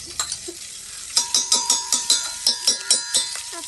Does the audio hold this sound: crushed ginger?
yes